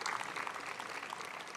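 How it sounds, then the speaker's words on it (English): Students at a business school address break into a round of applause for themselves, a steady dense clapping from a crowd filling the room at moderate distance. "So go ahead, clap for yourself."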